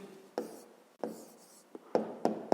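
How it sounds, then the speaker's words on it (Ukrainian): A pen writes an answer on paper in a fifth-grade maths exercise, close, dry scratchy strokes in several short separate bursts with quiet gaps between them and no talking. "записуємо тоді відповідь"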